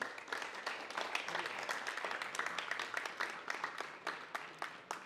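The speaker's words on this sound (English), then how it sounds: "one round of applause for Professor Salter" An audience applauds a guest professor after his talk at a university design lecture series, a steady dense patter of many hands clapping throughout, fairly soft and somewhat distant in the hall.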